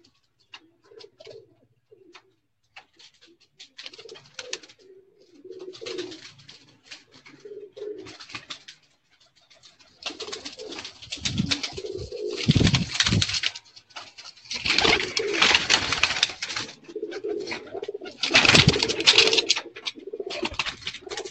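Fancy pigeons coo in soft, irregular bursts, growing louder and busier toward the end, with rustling and fluttering mixed in.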